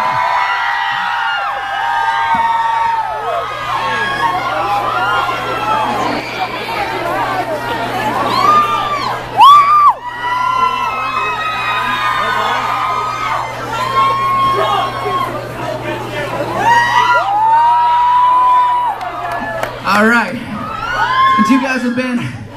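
A packed concert crowd at the Lincoln Theatre for a show cheers steadily, with loud whoops, screams and shouts rising and falling throughout and no break in the noise.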